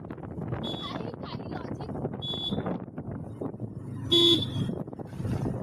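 A vehicle horn on a village road ride sounds three short honks, spaced a second or two apart, over wind and road noise while people talk.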